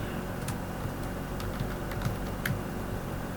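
Computer keyboard typing while entering a spreadsheet formula, faint scattered key clicks over a steady background hum, no voices.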